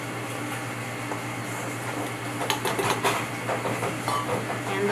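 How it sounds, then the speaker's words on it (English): An electric mixer whisks a sugar and soft butter batter with a steady motor whir and hum, joined by irregular rattling and clicking of the beaters against the bowl. "Then we're going to let that whisk until it gets fluffy and creamy."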